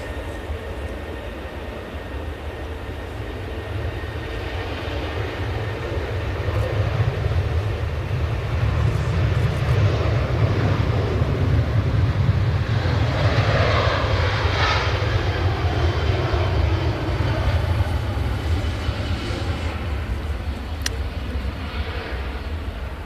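A jet aircraft landing at Manchester Airport gives off a long broad engine roar that swells to a peak midway and then gradually eases, heard from a distance with no talk.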